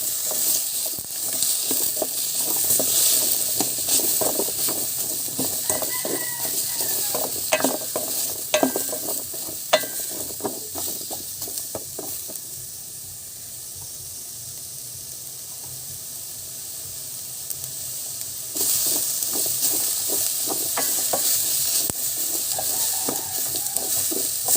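Carrots sizzling in hot oil in a frying pan for Filipino-style fish escabeche, stirred with a run of sharp scraping clicks over a steady hiss that settles quieter midway, then swells again.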